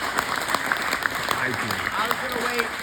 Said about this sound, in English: the round of applause for 25 years